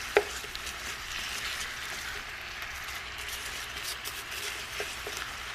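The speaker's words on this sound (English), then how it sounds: "I'm going to add in the onions." Quiet, steady sizzle of onions frying in a pot of melted butter for French onion soup, with occasional soft scrapes of stirring over the continuous crackle.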